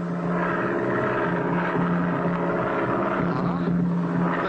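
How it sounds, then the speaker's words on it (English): A small propeller plane's engine drones steadily with a steady hum, continuous and fairly loud, over a noisy cartoon soundtrack. "I hear it. It's a plane."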